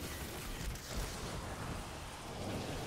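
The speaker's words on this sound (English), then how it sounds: "No one can get hit by lightning." Thunder and lightning storm in a video game, a steady rain-like roar with low thunder rumbles swelling around the middle, faint and distant with no speech.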